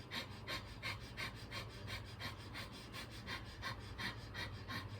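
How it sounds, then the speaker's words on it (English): Rapid, rhythmic breath of fire during a yoga breathing practice, a steady stream of quick forceful nasal exhalations pumping at an even pace over a continuous low background hum. "So this is where we bring in our fire breath."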